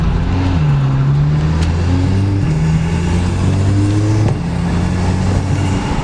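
An Audi S3 with intake and turbo muffler delete drives and accelerates through the gears, its engine tone rising and falling in pitch, loud and close from inside the car.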